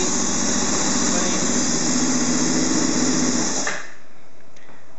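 A Honda VFR800 sixth-generation motorcycle engine idles steadily and close during starter valve synchronisation, a dense even mechanical drone that cuts off abruptly near the end, leaving near silence.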